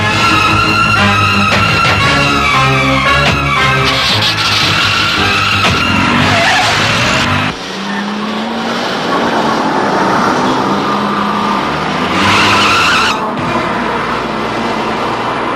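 A car drives toward a police station in a Telugu family drama, its engine and road noise loud and steady throughout, with a brief tyre-skid-like swell and dramatic music mixed in.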